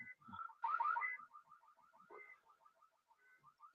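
A car alarm goes off outside, heard faintly from a distance as a rapid string of repeating electronic chirps that runs on steadily.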